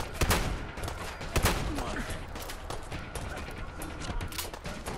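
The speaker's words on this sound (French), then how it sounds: "D'où on me tire dessus?" Gunfire in the video game Fallout 4, with a few sharp close shots followed by a rattling stream of quieter rapid fire and impacts.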